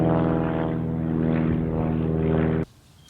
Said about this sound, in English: There comes another airplane.